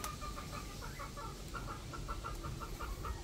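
Rhode Island Red chickens cluck in a soft, steady series of short rhythmic notes, fairly faint and close over a constant low background rumble.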